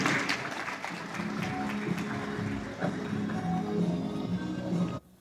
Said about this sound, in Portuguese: Senhoras e senhores, por gentileza, nossos aplausos, vamos receber Álvaro de Carvalho